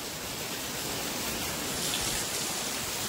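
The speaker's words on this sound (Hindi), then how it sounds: "अभी यहाँ पे बहुत बारिश है" Heavy rain pouring steadily outdoors at a hillside viewpoint in Gangtok, near a small waterfall, a dense, even hiss holding at one level throughout without any talk.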